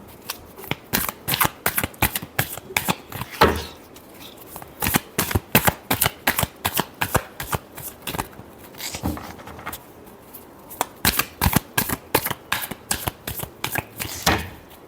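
Tarot cards being shuffled by hand, with quick crisp riffles and slaps coming in rhythmic bursts with short gaps, close and alone without talk.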